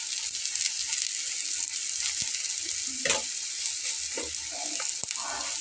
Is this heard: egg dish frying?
yes